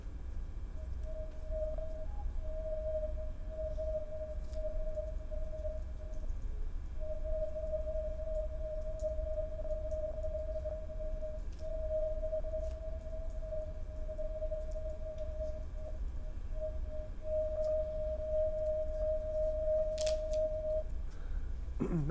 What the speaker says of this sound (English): Here's an example I used with a child's toy, one of those plastic tubes you spin around.